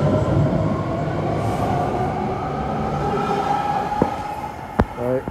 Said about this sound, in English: New 8 car 3 door Berryessa train, fleet of the future.